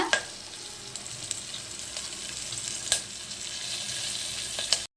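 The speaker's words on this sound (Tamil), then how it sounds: "கடுகு பொரிஞ்சிருச்சு" Mustard seeds sputter and crackle in hot oil with green chillies, a steady sizzle broken by sharp pops and snaps, close and continuous.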